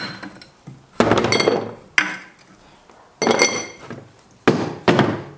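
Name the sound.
ball joint press pushing out a ball joint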